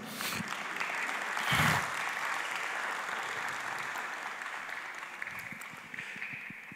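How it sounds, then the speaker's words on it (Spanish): A church congregation applauds during a sermon, a broad, steady wash of many hands clapping that swells briefly early on then continues evenly, heard from a distance in a reverberant hall. "Un aplauso al Señor."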